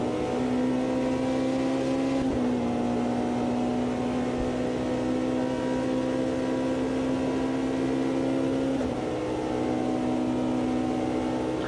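A Porsche prototype race car in the Automobilista 2 sim races the 2024 WEC Le Mans endurance event, its engine a loud, constant high drone with two brief dips where gears change.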